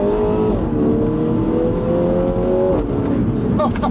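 A 2019 Mini JCW fitted with a loud pro exhaust and tuning kit downshifts on a bumpy back road, its engine note dropping and then climbing again in close, continuous revving with a step change near the end.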